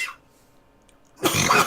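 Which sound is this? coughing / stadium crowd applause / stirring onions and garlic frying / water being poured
coughing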